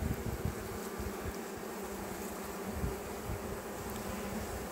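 Honey bees hum in a steady, dense swarm drone from an opened beehive during a spring brood check, with a constant close buzzing and no voices.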